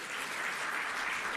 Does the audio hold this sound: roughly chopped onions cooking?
no